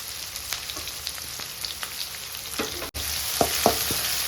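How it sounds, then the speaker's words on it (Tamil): Garlic cloves and small onions sautéing in a pan give a continuous sizzle, broken by scraping strokes of a spoon stirring the pan at a moderate pace. "எல்லாம் போட்டு நல்லா வதக்கிடுங்க."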